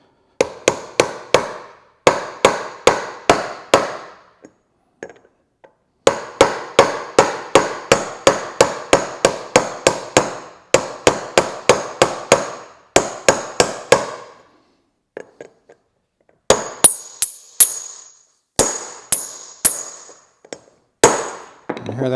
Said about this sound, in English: take a copper or brass punch and kind of work your way around and keep it going nice and straight down in there until it bottoms out.